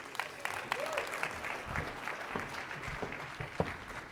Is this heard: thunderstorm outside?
no